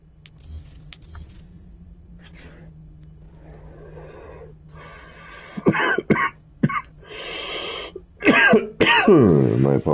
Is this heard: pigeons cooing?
no